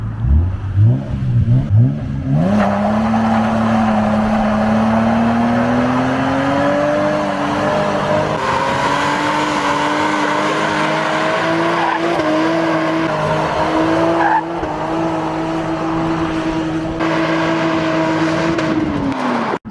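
A Lexus SC300 engine revs hard and holds a high drone while tires squeal and hiss continuously in a burnout on a welded differential, loud and close.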